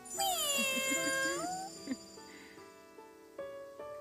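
A cat gives one drawn-out, close meow with a rising and falling pitch, followed by a few faint small clicks and soft jingles in an otherwise quiet room.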